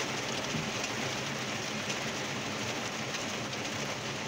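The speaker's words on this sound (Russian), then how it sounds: "Только подъехали, ливанул." Dense, even hiss of heavy rain pouring down onto a surface, loud and constant throughout, with no voices.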